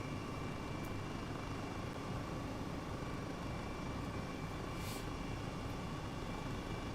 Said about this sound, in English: Can you hear the helicopter?